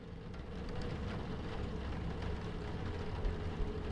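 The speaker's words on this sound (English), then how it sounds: "It sure is raining." Steady rain falling, a dense continuous hiss with a low rumbling undertone, constant and fairly loud throughout with no voices.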